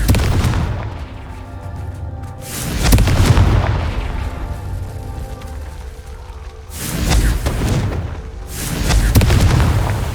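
Confringo fire spell blasts in the Hogwarts Legacy video game: several heavy booming explosions in quick bursts, each rolling off before the next, loud and close with no talking.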